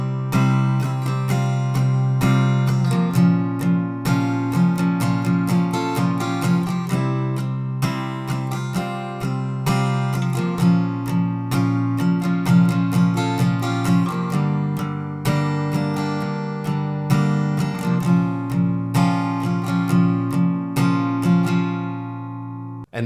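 Guitar strumming the bridge chords of a song in a steady up-down pattern, chords ringing clearly and evenly over about twenty seconds, close and alone without any voices.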